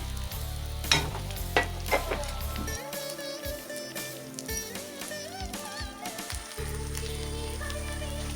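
Mustard seeds and curry leaves crackle and sizzle steadily in oil previously used to fry ginger, with a few stirring clinks and scrapes near the pan.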